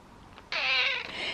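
One drawn-out cat meow, close and fairly loud, starts abruptly and fades slightly at the end.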